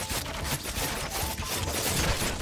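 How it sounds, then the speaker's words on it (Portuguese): Gunfire aimed at the player in the strategy game Thronefall, a dense, continuous fusillade of rapid cracking shots at steady loudness with no pauses, with no talk. "Tem alguém atirando em mim."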